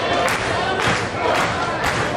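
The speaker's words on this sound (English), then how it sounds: "The slow clap has begun, Olsen." Wrestling crowd at an independent pro wrestling show building a rhythmic slow clap, about three spaced claps from the full room under loud crowd noise and commentary.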